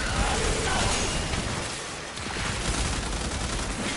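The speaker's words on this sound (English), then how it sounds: "Look how fast that mag empties." Rapid automatic gunfire from the game Warframe, a dense continuous burst emptying a magazine within seconds, loud and steady with a brief dip partway through and no talk over it.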